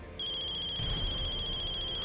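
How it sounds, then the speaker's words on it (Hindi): A telephone ring starts abruptly and holds as a steady, high electronic tone with a faint pulsing shimmer, fairly clear in an otherwise quiet room. "इस वक्त किसका फोन है?"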